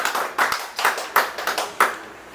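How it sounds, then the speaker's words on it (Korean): Audience applause at a talk on regional visual art spaces, a small group clapping in short bursts, close and fairly sparse with uneven rhythm. "큰 박수와 함께 시작하도록 하겠습니다."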